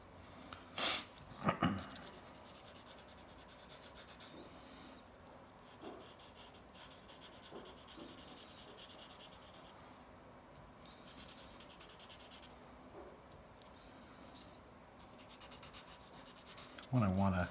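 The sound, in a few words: pencil shading dark marks on paper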